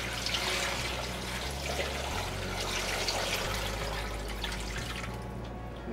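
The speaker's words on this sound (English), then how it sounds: "In this pot here, we're gonna cover these bones with water again." Water pours steadily into a pot over beef bones for Korean seolleongtang bone broth, a continuous splashing rush close by with no talking.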